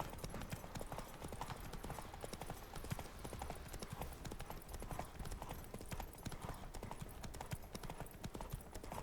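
Horse hooves gallop steadily and continuously in The Witcher 3, a dense, fast clip-clop rhythm running the whole time under a busy game soundscape with no voices.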